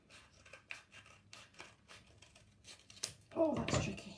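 Scissors snip through paper for a craft, a series of soft, quick cuts that build to a louder crunching cut near the end, heard up close and quiet.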